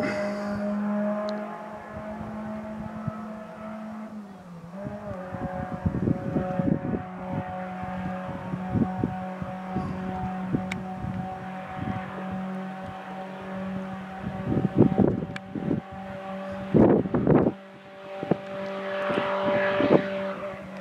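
A rally car in the Caminos del Inca race in Peru, on the Arequipa–Lima stage, approaching with a rising engine drone and several bursts of louder revving near the end, set against a steady low background hum.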